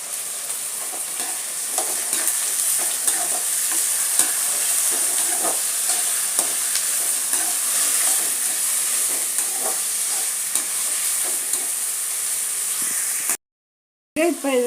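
Chopped onions and vegetables fry in a pan for rava kichadi, giving a constant close sizzle and hiss with repeated scraping and stirring strokes, then a brief drop to silence near the end.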